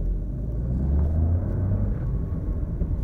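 Mahindra XUV300 petrol SUV engine, a low steady rumble that swells slightly as it revs, close and moderately loud with no talk.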